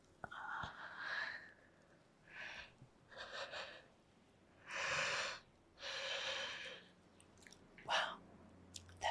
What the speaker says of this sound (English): Wow, that is a big yawn.